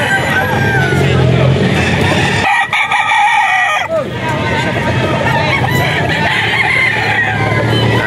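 A young gamecock (stag) crows on a breeder farm in Bocaue, loud and close, over a background of voices and general yard noise.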